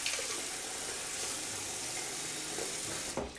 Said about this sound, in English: So let me put some water on my face.